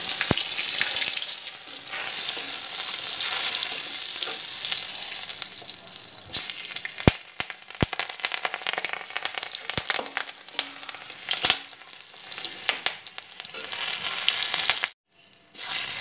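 Cumin, dried and green chillies, bay leaf and crushed ginger frying in mustard oil in a kadai, a loud continuous close sizzle with occasional sharp clicks, cutting out briefly near the end.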